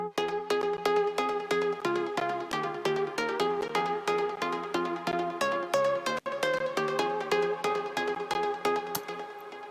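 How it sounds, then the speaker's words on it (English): Atlantis Pluck synth lead from a Spire soundbank, EQ'd with a low cut and mid boost, plays a fast, steady run of bright plucked notes that continues without pause for nearly ten seconds. "first layer is Atlantis Pluck from the reorder soundbank for Spire"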